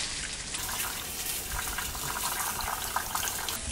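Tap water runs steadily into a sink while fresh mint leaves are rinsed and drained, a continuous close splashing hiss with no pause.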